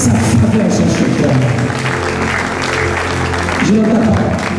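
Strong, sustained applause from a large audience fills a church conference hall, steady and loud throughout, with voices and music faintly underneath.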